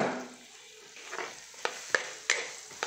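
Garlic and onions frying in melted butter, a steady soft sizzle with several sharp stirring scrapes toward the end, close and fairly quiet, no voices.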